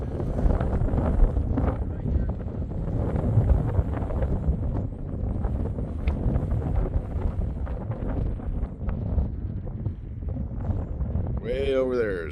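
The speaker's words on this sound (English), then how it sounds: "the wind's starting to kick up here" Steady wind sweeps across a hilltop in the Saddle Mountains of eastern Washington, rumbling and buffeting the microphone without pause for the whole stretch.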